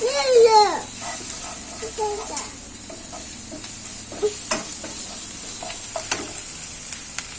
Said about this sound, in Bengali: মশলাটা একটু ভাজা ভাজা করে নেবো